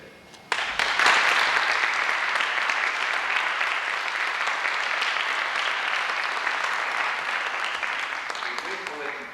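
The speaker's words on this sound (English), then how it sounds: "I think we should applaud them and each other in thanks for a good day" Sustained applause from a large crowd starts abruptly and continues steadily, with a dense wash of clapping that tapers slightly near the end.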